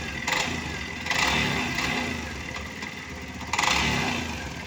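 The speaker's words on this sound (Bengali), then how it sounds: "তো আওয়াজটা দেখেন এখানে ইঞ্জিনের এখানে।" Close up, a Hero Xtreme 160 motorcycle engine with a faulty balancer and a partly dismantled engine runs and is revved in three short bursts between a rough idle.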